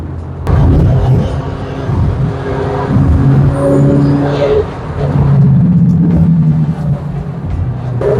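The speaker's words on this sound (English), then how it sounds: "Like it's taking third gear, it's going very quickly." A Dallara Stradale sports car accelerating hard through the gears on a road in Italy, its loud engine droning steadily from inside the cabin, with rising tones and brief dips at each gear change.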